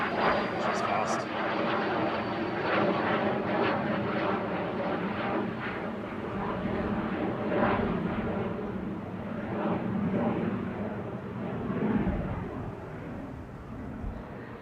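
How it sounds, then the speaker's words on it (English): A Cessna 510 Citation Mustang business jet departs Manchester Airport for Antwerp, its broad engine roar steady and fairly loud throughout, with voices talking over it. "Cessna 510 citation Mustang"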